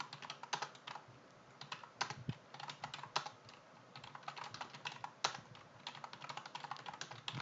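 Rapid keystrokes on a computer keyboard while entering data into an Excel spreadsheet, a steady run of crisp close clicks with occasional louder taps such as the Enter key, no voices.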